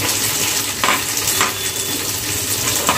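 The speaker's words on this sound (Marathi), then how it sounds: "कांद्यांना चांगला तांबूस कलर येईपर्यंत आपल्याला फ्राय करून घ्यायचे।" Chopped onions added to garlic already frying in a pan for dill greens bhaji, a steady crackling sizzle with a few soft scrapes and clinks of a utensil.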